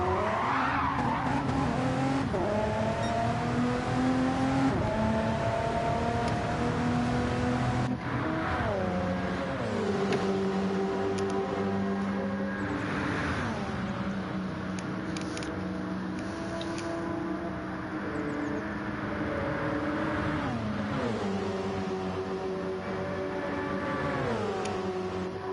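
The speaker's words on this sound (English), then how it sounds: "WSR Jojo limping that Porsche 919 back to the pit lane with engine damage and front nose damage as well." Porsche 919 prototype race car in a Le Mans racing video game, limping back to the pit lane with engine and nose damage, its engine whining and revving repeatedly up and down alongside tire squeal.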